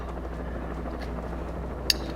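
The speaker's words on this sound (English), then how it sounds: "Hello, helicopter!" A helicopter in the Alan Wake video game hums as a low, continuous rotor drone in the background, steady and somewhat distant, with one sharp click near the end.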